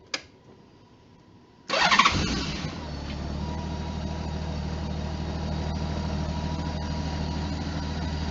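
A 2013 Honda Goldwing F6B cranks briefly after a sharp click, fires into a loud start, then settles into a steady, low, even idle that runs close by with no voices.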